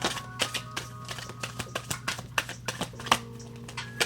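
Soul Coaching oracle cards being shuffled by hand, a quick run of crisp, light riffling clicks and flutters close by, fairly soft and without speech.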